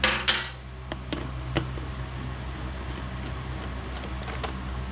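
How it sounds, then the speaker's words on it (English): A screwdriver works screws out of the air cleaner on a Briggs & Stratton Elite 8000 generator, producing scattered light metallic clinks and taps over a steady low background hum. "Just gonna take these screws off with a screwdriver."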